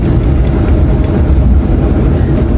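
The Purwojaya passenger train runs toward Bekasi station, a loud, continuous low rumble of wheels and carriages rolling on the rails with no talk above it.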